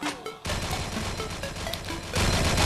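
Dense, continuous gunfire from the online shooter game Crisis Action, with bursts and impacts running nearly nonstop at close range and growing louder toward the end, with no talking.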